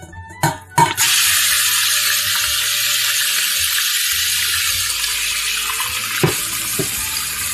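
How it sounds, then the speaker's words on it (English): Beef searing in a pan of hot oil for a stewed beef sandwich, a steady loud hiss and sizzle after a couple of sharp clatters at the start, with a brief clank near the end. "put your meat in for a good sear"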